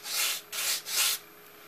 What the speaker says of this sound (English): We're just going to just a couple passes with the sanding block just to make sure there's no fuzz sticking up.